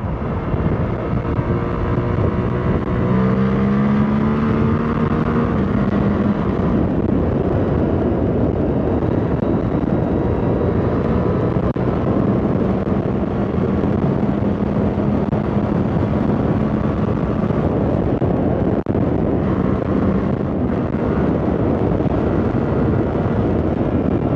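A Suzuki GSX-8R 2024 motorcycle rides at speed, with a steady loud engine drone and heavy wind rush that stay continuous throughout, plus faint pitch shifts as gears change.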